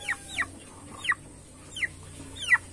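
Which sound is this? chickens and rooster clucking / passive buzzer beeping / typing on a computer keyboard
chickens and rooster clucking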